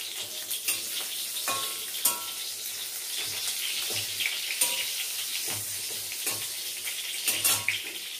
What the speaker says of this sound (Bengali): বেগুন ভাজছি দেখো